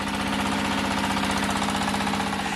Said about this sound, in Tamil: இந்த டீசல் இன்ஜின் ஃப்ளை ஆஷ் பிரிக் மெஷின்